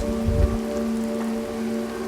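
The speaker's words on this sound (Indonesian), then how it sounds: "tiba-tiba hujan gerimis" Light drizzle falls steadily around a car on a dark road at night, a continuous soft hiss of rain over a low steady hum, with no voices.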